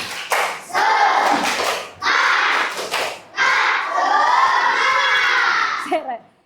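Young schoolchildren at an Islamic primary school perform a lively clapping chant in unison, bursts of rhythmic claps and shouted voices in several loud phrases separated by short pauses.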